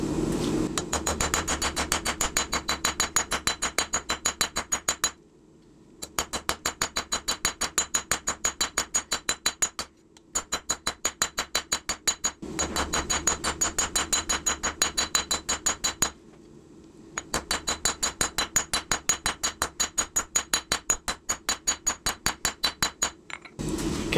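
Hammer forging an integral hidden-tang knife blade by hand at the anvil: long runs of rapid, evenly spaced ringing metal strikes, close and loud, broken by brief pauses between bursts.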